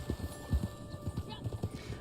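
A horse in Red Dead Online clopping along in quick, uneven hoofbeats close by, with a faint whinny-like tone behind the steps.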